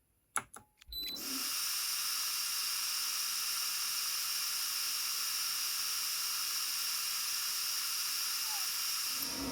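A laser engraver's fume extraction fan starts after a few brief knocks and then runs steadily, a loud, even broadband hiss holding unchanged to the end.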